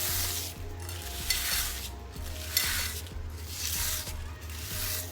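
Crushed browned onions are stirred into meat frying for korma, making a loud, continuous sizzle that swells and fades in a slow rhythm as the spoon sweeps and scrapes around the pot, close up with no voices.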